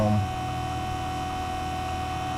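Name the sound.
vacuum pump running on an AC system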